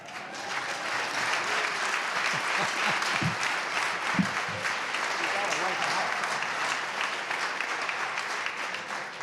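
Sustained applause from a large audience at the State of the Commonwealth address in Virginia, steady dense clapping filling the hall for the whole stretch at an even level.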